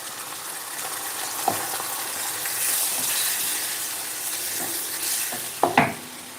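Tomatoes frying with spiced mince in a hot pan, a steady broad sizzle with scraping stirs and a few sharp knocks of the utensil against the pan, close up.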